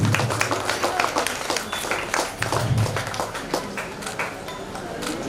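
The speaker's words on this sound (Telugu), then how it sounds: "క్లాప్స్ ఇవ్వండి అందరూ ఒకసారి ప్లీజ్" Audience applause after a Kuchipudi dance performance, a steady patter of many hands clapping at close range, with a voice speaking over it.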